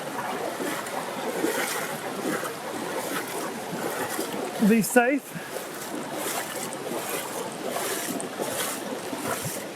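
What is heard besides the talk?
people wading through fast-flowing stream water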